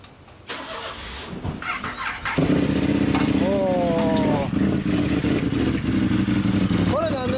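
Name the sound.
2015 KTM 1190 Adventure motorcycle engine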